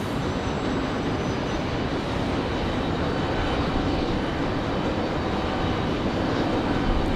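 United Boeing 737 MAX 8 airliner at Raleigh-Durham, its engines producing a loud, continuous broadband roar that holds steady for the whole stretch, with no voices.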